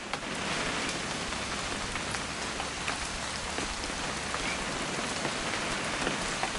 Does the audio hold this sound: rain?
yes